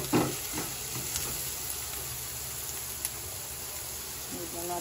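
Fish sizzling as it fries in a pan, a quiet steady crackle and hiss with a few soft clinks of utensils, heard alone without talking.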